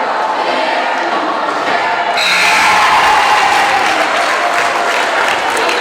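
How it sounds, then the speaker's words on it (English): A crowd in a gym at a boys' basketball game roars and jeers a player, a dense wash of voices and noise that swells louder partway through and stays loud. "Crowd was giving him a little bit of grief because he airballed the 3-pointer"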